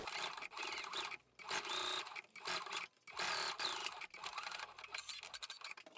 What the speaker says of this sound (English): And let's sew here.